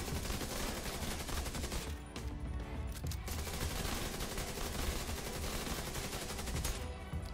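Capacitor assault rifle fire in The Division 2, sustained dense automatic bursts with rapid repeated shots nearly nonstop, loud and close, with a couple of brief pauses.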